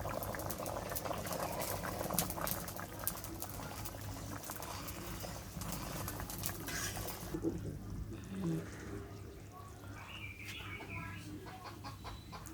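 A pot of curry with egg boils steadily in a rainy-day home kitchen, a continuous bubbling patter that fades somewhat partway through, with chickens clucking nearby and faint background voices.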